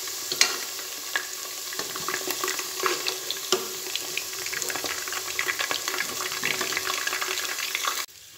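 Potatoes fry in hot oil for dhaba-style Punjabi aloo baingan, giving a loud, continuous close sizzle with scattered crackles and stirring clatter. It cuts off abruptly near the end.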